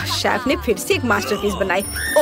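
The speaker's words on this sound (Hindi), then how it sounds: "ये मेरी अलार्म घड़ी है।" An alarm clock rings in a kitchen with a bright, bell-like trill that rises toward the end, partly buried under loud, lively talking.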